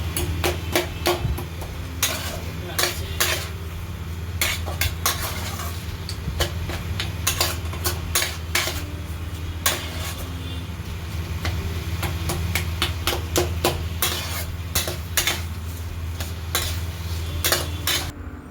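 Steady scraping and clinking of a spatula against a wok as cabbage curry with fish head is stirred, with sharp metallic taps recurring throughout.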